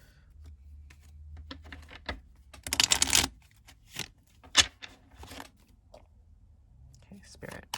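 Tarot cards being shuffled in a quiet room, a burst of dense riffling that swells for about half a second, followed by a few scattered soft card snaps and taps, with brief speech in between.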